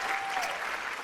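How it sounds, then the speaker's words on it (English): A graduating class of 2020 clapping at a high school commencement, a brief burst of dense applause from a crowd, fairly faint and even, with a thin whistle-like tone sliding through it. "let's give ourselves a clap for graduation of 2020"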